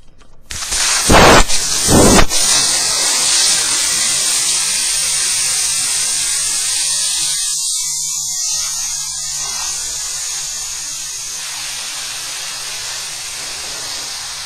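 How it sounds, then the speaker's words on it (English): Air hisses continuously from a tire through a Staun knockoff deflator, starting with a couple of sharp bursts and then settling into a steady, loud, close hiss that fades slightly over time. "I can still hear air"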